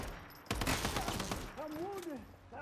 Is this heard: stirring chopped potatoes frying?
no